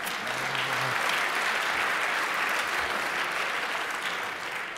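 A conference hall audience at a hacker congress talk breaks into steady, sustained clapping, a dense even roar of many hands that fades slightly toward the close.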